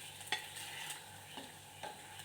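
Cooked rice being stirred and mixed into a coconut mixture in a wok, soft continuous scraping and faint sizzle with a few spoon knocks, close and fairly quiet.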